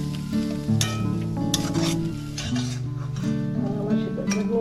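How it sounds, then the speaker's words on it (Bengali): A spoon scrapes and stirs a watered-down spiced masala paste in a pan for a Sylheti village dish, making repeated rasping strokes and a faint sizzle under a tuneful background. "এখন আমি নাড়াচাড়া করবো"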